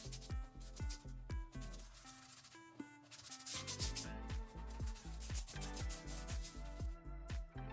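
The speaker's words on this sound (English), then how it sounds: "Rub some foam on the top." Foam from a homemade toilet bomb being rubbed onto a toilet, a rhythmic series of close, scratchy rubbing strokes repeating steadily throughout with no voices.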